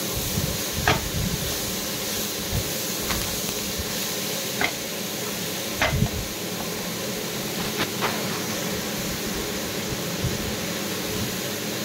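Guava being stirred in a cooking pan with a spoon, a steady sizzling hiss with a few sharp scrapes and clinks of the spoon at irregular intervals, close and moderately loud, with no talk.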